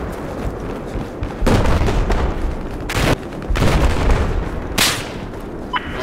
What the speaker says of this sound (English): Oh, missile.